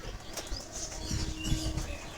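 Pigeon wings flap in brief bursts close by, with soft rustling and faint cooing in the background.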